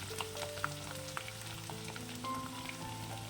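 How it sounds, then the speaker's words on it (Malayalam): Half a cup of garlic fries in hot oil alongside mustard seeds for a Kerala kanthari chili pickle, giving a soft, steady sizzle with faint crackles, quiet and close, with no speech. "ഇനി വെളുത്തുള്ളി ചേർക്കാം. 1/2 കപ്പ് വെളുത്തുള്ളി ചേർത്തിട്ടുണ്ട്."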